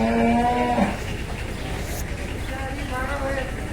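A cow being loaded for Qurbani gives one low, close moo at the start, followed by a steady outdoor crowd murmur and background noise.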